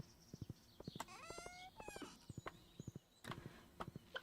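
Horse hooves clip-clopping in the farming video game Stardew Valley, a brisk run of sharp evenly spaced hoof clops mixed with bright chime-like game tones.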